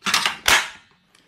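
A Fujiwara cordless finish nailer fires twice in quick succession at close range, each a sharp, loud mechanical snap with a brief rattling tail, followed by a faint click.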